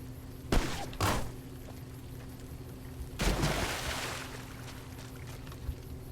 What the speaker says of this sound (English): I'm just getting pelleted by a shotgun here